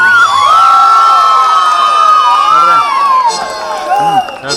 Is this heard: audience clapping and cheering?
yes